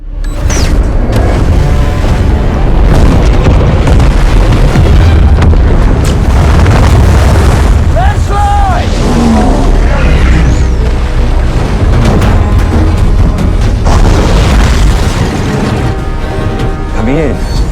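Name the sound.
bomb explosion underwater in a movie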